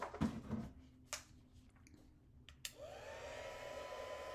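After some quiet handling sounds, a heat gun switches on and settles into a soft, steady whirring blow as it heats gold embossing powder on a shaker card.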